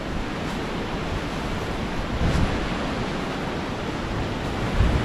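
Strong wind roars steadily through a forest beside a river in a remote area, a loud, continuous broadband rush with occasional stronger gusts and no voices.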